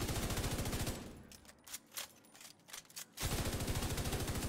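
Rapid automatic gunfire from a high-capacity weapon in The Division 2, a dense burst of shots fired without pause, loud and close, that stops abruptly for a brief gap before the rapid firing resumes.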